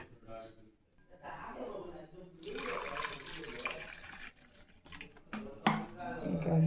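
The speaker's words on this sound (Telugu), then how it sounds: "దీనిలో వాటర్ పోసేస్తే" Water pours into a dish of mixed recipe ingredients with a steady splashing rush that begins partway through and runs on under someone talking nearby.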